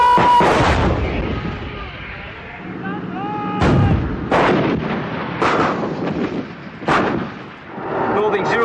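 British and American artillery pounds Iraqi front lines in a Gulf War desert barrage, heavy booming blasts following one another in quick succession, loud and reverberant, with rumbling between the shots.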